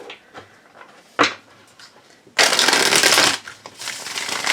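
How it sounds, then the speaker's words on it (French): Tarot cards being shuffled with some difficulty, a few scattered taps and rustles followed by a loud, sustained burst of close riffling and papery swishing. "Je n'arrive pas à mélanger les cartes aujourd'hui"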